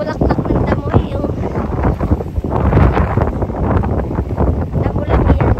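Strong wind buffets the microphone outdoors on a grassy spot near water. The rumbling gusts are loud and continuous, rising and falling throughout.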